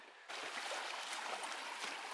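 Water flowing in a Kentucky creek along its banks: a faint, steady broadband rush and trickle that starts abruptly after a brief quiet moment and continues evenly to the end.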